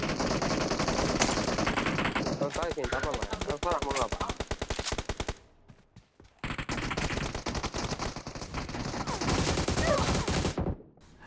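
Automatic gunfire in the mobile game PUBG Mobile, with long rapid bursts of loud shots. Two brief pauses break the fire before it resumes, and a voice is faintly heard beneath.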